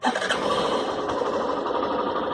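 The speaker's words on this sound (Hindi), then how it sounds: "चलिए एक बार इंजन ऑन करके देख लेते हैं।" A Hero Glamour 125cc motorcycle engine settles into a steady idle, a close, even mechanical chatter and hum that runs continuously without talking.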